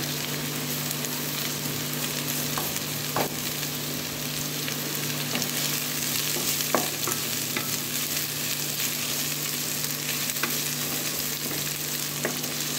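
Garlic paste and onion frying in a pan for a mutton curry, a steady close sizzle with occasional light scrapes, no voices.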